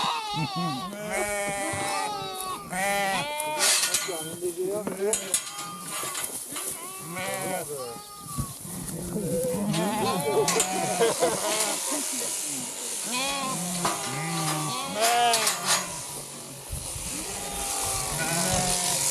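Sheep bleating at a sheep shearing on an eco-grazing farm, many overlapping wavering bleats near and far, loud and continuous, with people talking in between.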